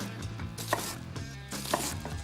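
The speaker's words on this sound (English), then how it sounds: "With the weight of the blade to cut through that onion to get to the base of the root." Knife chopping through an onion on a board, two quick pairs of sharp cuts with a soft thud as the blade reaches the board, close and clear.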